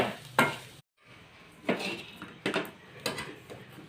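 Spiced pea filling with salt and turmeric is sautéed in a pan for kachori, a soft sizzle broken by a brief pause and several clattering stirs of a spoon against the pan.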